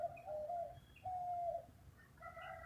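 Morning birds, a dove cooing in drawn-out notes alongside a few soft chirps, fairly quiet and alone against a faint low background hum.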